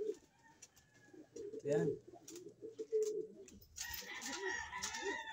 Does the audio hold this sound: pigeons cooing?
yes